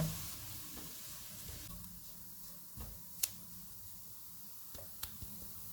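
Maida flour roasting in a pan gives a faint, soft sizzle with a few light ticks of a spoon against the pan, quiet and close, with no one talking.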